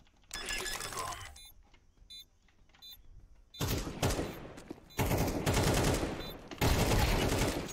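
Gunfire in the video game Counter-Strike 2, with a loud, dense burst of rapid shots, then quieter clicks and beeps, then heavier sustained bursts of automatic fire near the end. Game sounds carry over some voice chatter.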